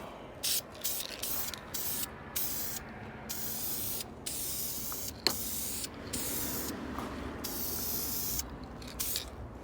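Aerosol spray can laying a light coat of paint onto engine parts from a 1994 Ford Mustang Cobra SN95 during a head gasket job, with repeated short close hissing bursts separated by brief pauses.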